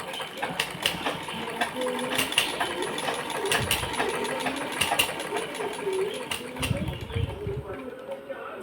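A sewing machine stitches fabric back and forth at an even speed, a steady, fairly quiet mechanical whir running throughout while a person talks over it.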